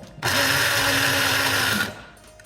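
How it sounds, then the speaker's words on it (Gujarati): A small mixer grinder whirs steadily as shelled peanuts are ground into powder, one loud continuous burst of about a second and a half that starts abruptly and cuts off, close by with no talking. "આપણે નાના મિક્સીમાં એકદમ ગ્રાઇન્ડ કરવામાં ધીમે રહીને ચાલુ બંધ કરીને કરી નાખશું સિંગદાણાનો ભૂકો"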